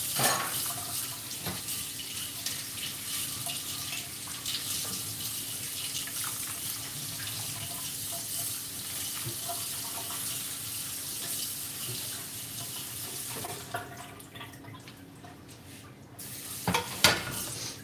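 Water runs steadily from a kitchen sink tap while a cake pan is washed, with hissing flow and occasional clatter. The water stops near the end, followed by a couple of knocks.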